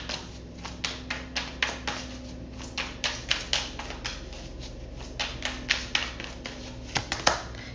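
Tarot cards are shuffled and drawn by hand, a close, quick run of crisp flicks and taps in an uneven rhythm over a faint low hum.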